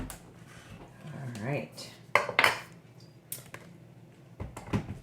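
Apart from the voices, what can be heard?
pot being put back on the stove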